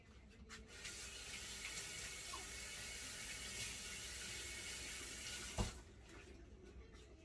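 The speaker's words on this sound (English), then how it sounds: "Now, I'm going to wash my hands." Water runs steadily from a kitchen sink tap while hands are washed beneath it, a continuous close splashing rush with no talking, ending in a brief clunk as the flow stops.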